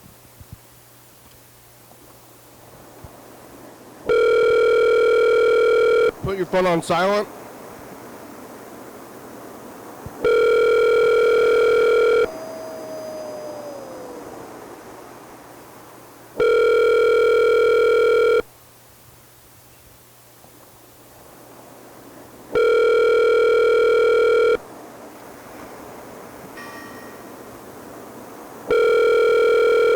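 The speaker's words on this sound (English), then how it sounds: "Your call has been forwarded to voicemail." A phone call rings out through repeated loud electronic ring tones spaced a few seconds apart, with quieter background noise and rustling between rings before the line goes to voicemail. A brief spoken phrase occurs between rings.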